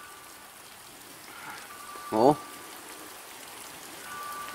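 Steady rain falls outdoors at a pigeon loft during a homing-pigeon race arrival, an even pattering hiss throughout, with one short spoken exclamation midway.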